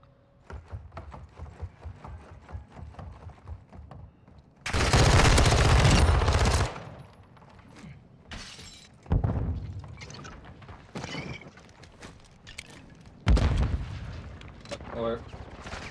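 Gunfire in the video game GunFight 5: several loud bursts of shooting and explosive blasts, one long sustained roar, cut in among steady game noise and a person talking throughout.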